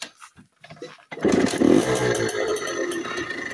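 A small motorcycle is kick-started: a few scuffing kicks, then the engine catches and runs steadily at a close, buzzing idle with slight revving for the remaining seconds.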